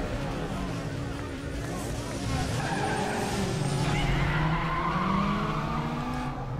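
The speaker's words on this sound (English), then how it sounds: "Some front wheel drive drifting." Front-wheel-drive car drifts in Need for Speed Underground 2, tires screeching in long, wavering squeals over a droning engine, the skid swelling louder midway and holding steady.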